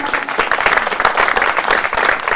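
A church congregation clapping during a worship service, a brief continuous burst of hand claps lasting a couple of seconds, fairly loud and without speech.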